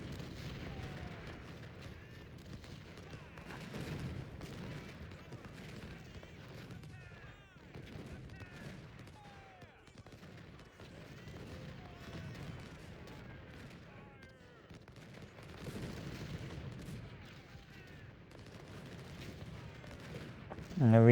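Civil War cannon artillery fire in the Ultimate General: Civil War game at Gettysburg, with a continuous distant rumble of booming volleys under a low din of battle.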